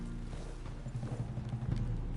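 Horse hooves clip-clop in Red Dead Redemption II, a steady, fairly close rhythm of dull low thuds that runs through the whole stretch over a constant background of game ambience.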